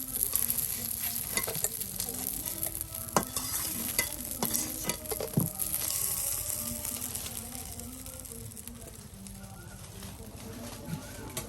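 Bora fritters frying in hot oil at a village kitchen, a dense continuous sizzle with scattered knocks and clinks from handling, close and fairly loud, a faint background voice now and then.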